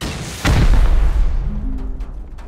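A rocket explosion in the video game Rust lands as one loud, heavy boom with a deep rumbling tail, followed by fainter distant pops.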